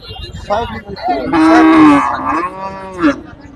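Loud, drawn-out cattle moos close by at a cattle market, one long bellow rising and falling over a couple of seconds, with faint background murmur around it.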